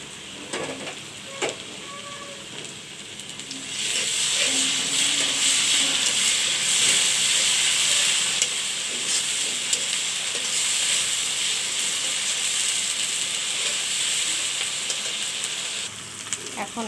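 Ginger garlic paste hitting a hot pan with shrimp and greens, a loud steady sizzle that swells after a few seconds of quieter frying and holds, with a few utensil clinks.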